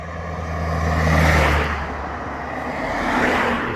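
Cars pass close by on a narrow rural road near Wellington Bridge on Ireland's coast, one whooshing loudly past, then a second swelling in again, heard from the roadside without talking.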